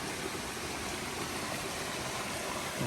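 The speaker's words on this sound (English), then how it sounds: "Another creek crossing here." Steady rushing water of a flowing mountain creek in Linville Gorge, a continuous broadband wash with no other sounds.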